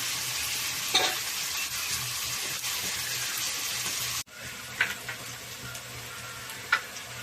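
Onions frying in a pan for a fish curry give off a loud, continuous sizzle with occasional spatula clinks. The sound drops away abruptly midway and resumes a little quieter, with a few more light stirring knocks and no speech.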